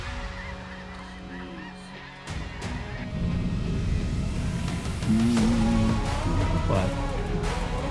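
Snow geese honk overhead during a hunting trip in Canada, a dense chorus of overlapping calls that starts moderate and swells louder and closer, with some vehicle rumble beneath.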